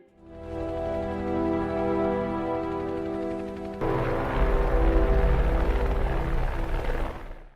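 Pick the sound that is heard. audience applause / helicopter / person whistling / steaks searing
helicopter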